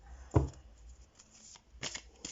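A deck of tarot cards shuffled up close, a firm snap followed by lighter riffling and a final flurry of flicks, quiet overall with no speech.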